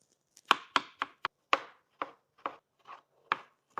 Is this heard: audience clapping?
no